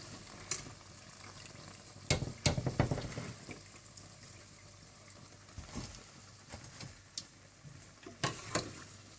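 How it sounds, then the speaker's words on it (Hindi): Iftar snacks such as spring rolls and potli samosas deep-fry in hot oil with a continuous low sizzle, broken by several sharp clinks and scrapes of a slotted spoon against the pan. No one speaks. "डीप फ्राई करने के बाद आप इन्हें निकाल लें"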